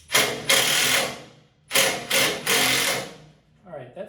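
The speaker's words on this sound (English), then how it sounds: "I'm going to use a wrench and an impact driver to at least tighten one of these up" An impact driver tightens a nut in several loud, close hammering bursts separated by short pauses, with a quieter voice toward the end.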